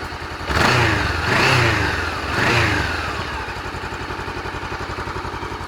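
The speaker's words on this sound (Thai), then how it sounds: "เดี๋ยวลองมาเร่งเครื่องนะฮะ" Three quick throttle blips from a 2013 Honda CB500X with its stock exhaust rise and fall up close, then the parallel-twin settles back into a steady idle; no one speaks.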